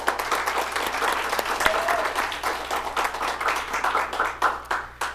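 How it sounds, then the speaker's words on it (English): An audience at a LGBTQ activism dialogue event claps together in steady applause, moderately loud and sustained throughout, with no talking over it. "Let's give them a round of applause."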